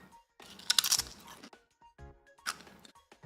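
Pizza-flavored Pringles chips crunched while eating, heard close and crisp: a loud burst of brittle crunches, then a pause and several shorter bites and chews.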